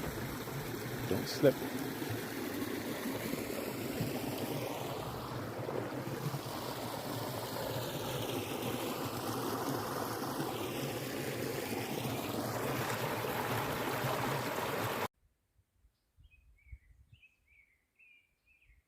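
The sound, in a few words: small brook flowing under a bridge on a hiking trail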